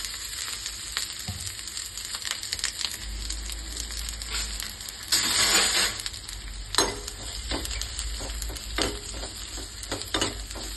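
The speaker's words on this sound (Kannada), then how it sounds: "ಇದನ್ನು ಸ್ವಲ್ಪ ಚೆನ್ನಾಗಿ ಬ್ರೌನ್ ಕಲರ್ ಬರೋವರೆಗೂ 1ರಿಂದ 2 ಸ್ಪೂನ್ ಎಣ್ಣೆ ಹಾಕ್ಕೊಂಡು ಚೆನ್ನಾಗಿ ಫ್ರೈ ಮಾಡ್ಕೊಳ್ಳೋಣ" Chopped onion fries in oil in a pan for vegetable sambar, a steady close sizzle with occasional stirring scrapes and a light clink of a spoon against the pan, no talk.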